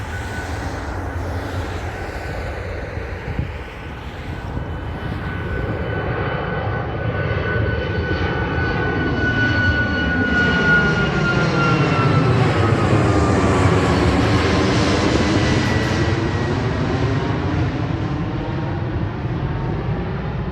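An Antonov 12 turboprop cargo plane on the runway at Dublin Airport, its loud droning engines swelling and shifting in pitch as it passes close by, with no voices.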